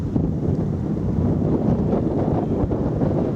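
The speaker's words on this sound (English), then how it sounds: "The wind is picking up and it's quite bitter now." Bitter northwesterly wind buffets the microphone on a countryside walk, a steady, loud low roar with gusty surges throughout and no voices.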